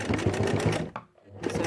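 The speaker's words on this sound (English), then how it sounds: "Turn your balance wheel so your needle's in, sew a little bit, reverse," A sewing machine stitches fabric for reusable face wipes. Its steady whirring runs briefly, stops for a moment and starts up again, loud and close, with no talk.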